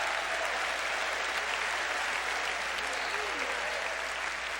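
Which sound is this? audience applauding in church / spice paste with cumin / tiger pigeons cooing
audience applauding in church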